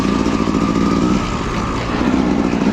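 Dirt bike engine on a trail, a loud steady buzzing drone held close for about three seconds with no speech.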